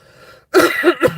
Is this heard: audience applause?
no